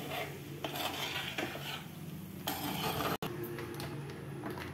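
Fish masala with hot water being stirred in a pan for a Malayali tuna (choora) masala dish, with steady close scraping and clinking of a ladle against the metal pan throughout, no talk.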